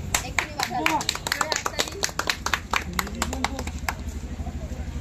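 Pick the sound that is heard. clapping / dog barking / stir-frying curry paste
clapping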